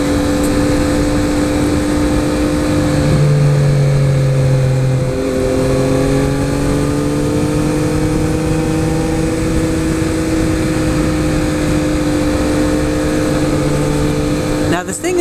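A Triumph Speed Triple motorcycle engine drones steadily while riding on a winding road, its pitch rising and falling with throttle under constant wind rush, with a rider talking over it.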